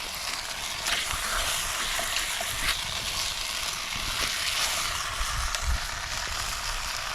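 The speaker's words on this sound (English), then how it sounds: "we've got some beef, some chorizo sausage and onion, and we're going to brown that off" Beef, chorizo sausage and onion browning in a camp oven at an outback Queensland free camp, giving a steady close sizzle and crackle throughout with a few soft clinks of stirring.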